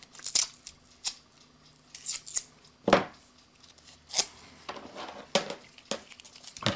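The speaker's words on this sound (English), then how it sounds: "tear off some masking tape." Masking tape is torn off during a repair of an Ansonia kitchen clock mainspring, heard as a series of sharp, close, crackly rips and snaps spaced a second or so apart in a quiet room.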